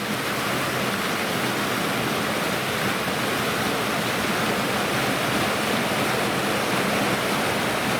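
A river flows under a bridge with steady, loud, broadband rushing water that holds constant throughout and has no voices over it.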